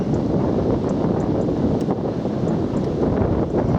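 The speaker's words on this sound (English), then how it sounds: "as you can probably hear, wind's picking up." Strong wind gusting across the open hilltop of Box Hill, a loud continuous roar and buffeting against the microphone with no pauses and no talk.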